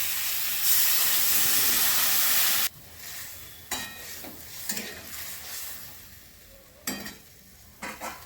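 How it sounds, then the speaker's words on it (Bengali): Water poured into a pan of sautéed potato, brinjal and bean for a rohu fish curry hisses in a loud burst of steam and sizzle for a few seconds, then settles into quieter bubbling with occasional clinks. "সবজি কষানো হয়ে গেছে, জল দিয়ে দিচ্ছি।"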